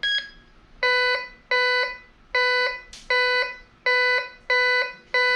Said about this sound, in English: That's a good two-way tone.